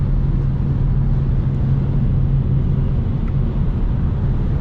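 A BMW 335i with the N54 engine cruises steadily on a highway, its low engine drone and road rumble holding even and close throughout with no talk.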